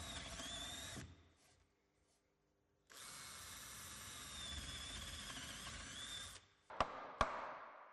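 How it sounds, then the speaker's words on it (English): A power drill with a 12 mm bit whines loudly through a wooden staircase newel post for about a second, then after a brief silence drives in again for several seconds before a couple of short clicks. "Use a 12 mm drill bit to bore several holes"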